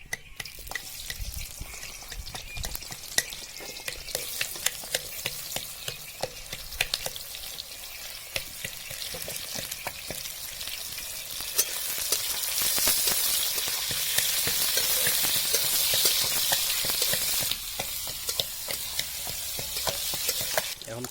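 Onions and whole garam masala sizzling in pure mustard oil, a continuous frying hiss with frequent scraping stirs, growing louder and more intense in the second half, no voices.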